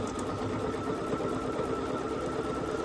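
A Bernina sewing machine stitches through basted quilt layers in a steady, continuous mechanical whir with a fine rhythmic needle patter, close and alone without talk.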